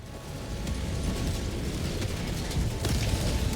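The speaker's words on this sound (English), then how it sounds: "Firing orbital barrage" An orbital barrage in Helldivers 2 pounds down as a sustained wall of rumbling blasts, with repeated sharper crackling impacts rising out of a thick low roar, loud and dense.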